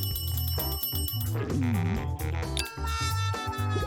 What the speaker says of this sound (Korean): 이제 전화 받아.